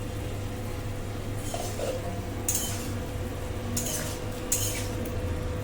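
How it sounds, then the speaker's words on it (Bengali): A spoon stirs a jhinga (ridge gourd) and potato posto curry in a pan, producing a few light scrapes and clinks over a steady, noisy background hum. "আমি আবার একটু নাড়াচাড়া করে দিচ্ছি"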